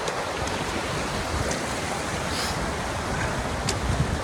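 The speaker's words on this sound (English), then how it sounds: "This river here is absolutely beautiful. I never get bored looking at this little river." A river in Glen Etive flows as a steady, broadband rush of water, close and continuous for the whole stretch, with no voices over it.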